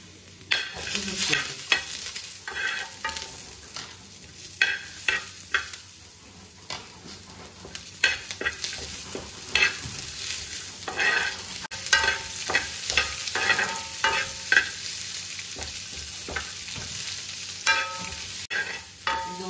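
Garlic, onion and curry leaves sizzle and crackle in a pan, with repeated bursts of stirring scraping through the frying, close up and without talk.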